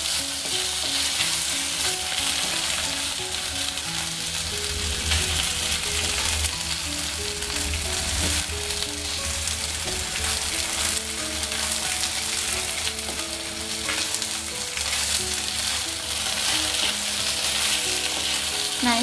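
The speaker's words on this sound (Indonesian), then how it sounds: "Panaskan sedikit minyak. Nah, kemudian masukkan atau goreng daging ayam." Chicken meat fries in hot oil with a loud, continuous sizzle and crackle, steady and close throughout, with occasional stirring.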